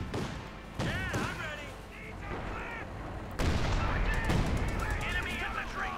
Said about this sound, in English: And infantry gunfire coming in there again